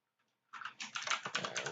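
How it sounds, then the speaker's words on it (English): Close computer keyboard typing during a software setup tutorial, a quick run of crisp keystrokes that begins after a short silence and continues steadily with no talk. "we're going to type in"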